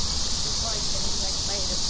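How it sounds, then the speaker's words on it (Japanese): Cicadas drone loudly on a summer street walk in Shinjuku, Tokyo, a dense, steady high-pitched buzz that fills the whole moment, with a faint voice underneath. "セミうるせえな。"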